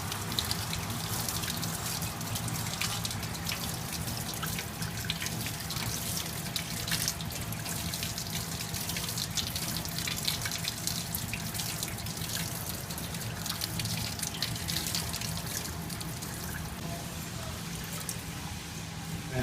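Steady flow of water running and splashing through a sieve while wet-sieving sediment particulate, a continuous close wash with no pauses.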